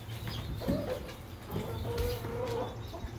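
Small chicks huddled together in a coop on a chilly morning, peeping in soft, irregular bursts at close range over a low steady background hum.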